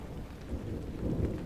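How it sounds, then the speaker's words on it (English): Steady, dense rain pours down with a deep, low rumble of thunder rolling underneath, continuous and enveloping with no voices. "just like this rain, cleansing the earth without any struggle at all"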